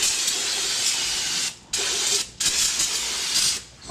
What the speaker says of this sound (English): spray some brake cleaner here on this side as well, just to clean this off just a little bit.